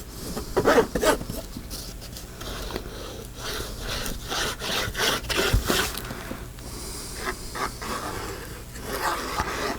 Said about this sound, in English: It's the metal tip rubbing on the linen of the book, the cloth of the book.